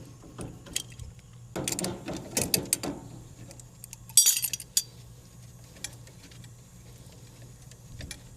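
A ratchet loosens bolts on a York gas package unit coil during replacement, giving bursts of clicking and metallic clinks at moderate distance, with quieter gaps between, no talking.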